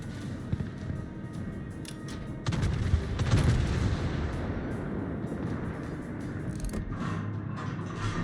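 Naval shellfire from a warship's main guns in a battle video game, heavy booming salvos rolling into a dense, sustained roar of distant blasts and explosions, loudest in a burst near the middle.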